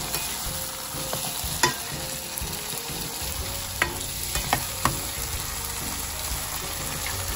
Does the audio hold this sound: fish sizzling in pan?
yes